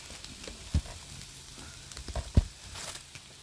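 Fajitas and small corn tortillas sizzle on a cooking surface, a steady faint frying hiss with a couple of sharp knocks and pops, no talking.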